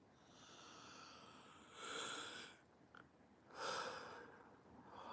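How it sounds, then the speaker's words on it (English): A person yawns during a quiet morning meditation: two slow, breathy swells of inhaled and exhaled air, each lasting under a second, close and soft. "And another yawn"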